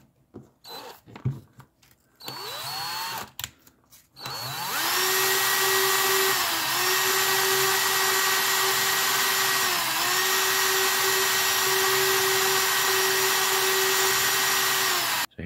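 A power tool sands the tip of an old soldering iron for refurbishing, its motor spinning up after a few brief starts and then running steadily and loudly with a slight dip in pitch under load.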